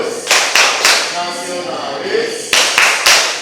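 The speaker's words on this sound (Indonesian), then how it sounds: "melakukan tepuk PPK" A class of schoolchildren stands and performs the rhythmic PPK clap in an Indonesian classroom: two bursts of three sharp, close claps, with chanting voices in between.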